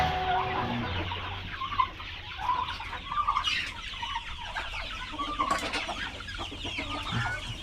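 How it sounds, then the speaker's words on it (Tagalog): A flock of chickens clucks and calls in a farmyard, scattered overlapping clucks near and far over a steady outdoor background with no talking. "Ganyan na karami ang ating manokers."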